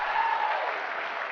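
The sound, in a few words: crowd cheering and applauding at Nintendo E3 2004 presentation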